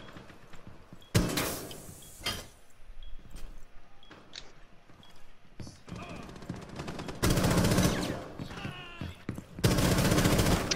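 Repeated bursts of automatic gunfire in the Rainbow Six Siege video game: three loud, sustained volleys, plus scattered shorter shots, with players' voices talking between and over the shooting.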